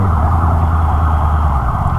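Loud, steady ambulance siren wailing close by on an elevated expressway, with traffic rumble underneath.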